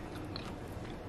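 Crunchy cooked broccoli, served with salmon and white rice, is bitten and chewed up close, a short run of soft crisp crunches with no talking.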